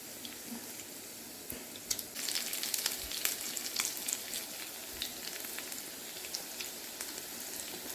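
Potato and chicken kebabs frying in oil on medium heat, pressed lightly as they cook: a soft, continuous crackling sizzle with bursts of sharper spitting, fairly quiet and close, with no talking.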